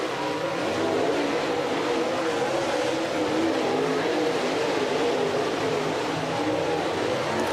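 Super late model race cars warm up on the track at Mountain Motor Speedway, a steady, dense roar of several engines blending together without a break and with no voices on top.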